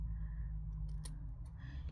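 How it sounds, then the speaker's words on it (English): Old scissors are handled indoors, giving a few faint, quick metallic snips and clicks over a low steady hum. "she took out some old scissors"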